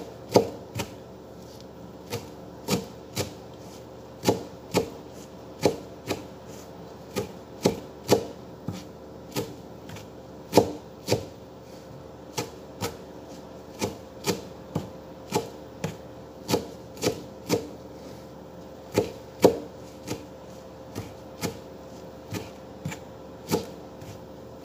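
A sharp knife chopping food on a board in a steady, rapid series of crisp taps, dozens of evenly spaced strikes sounding close and clear with no talking over them.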